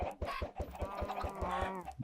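Minecraft chickens cluck in a quick, even string of short clucks, close and clear, with a brief squawk near the end.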